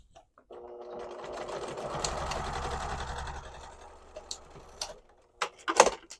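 A sewing machine stitches a dart in fabric in one continuous run of rapid mechanical whirring lasting a few seconds, then stops and is followed by a few light clicks and handling sounds.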